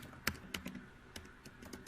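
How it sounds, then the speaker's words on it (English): Typing on a computer keyboard into a search box: a quick irregular series of about ten sharp clicks, close and fairly quiet, with no talking. "I'll start typing some questions in the search box."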